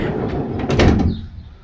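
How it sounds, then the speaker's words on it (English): Sliding door on a Nissan NV2500 van rolls along its track and closes with a short, solid thud, a brief close sound followed by quiet. "It's a nice sliding door."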